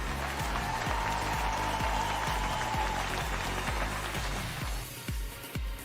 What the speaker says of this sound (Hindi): आप जहां भी हैं इनके लिए जोरदार तालियां बजाइए